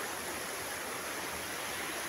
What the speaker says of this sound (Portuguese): tem umas correntes d'água bem forte